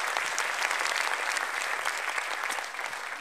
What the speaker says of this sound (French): Je pense qu'on peut les applaudir bien fort, s'il vous plaît, messieurs, dames.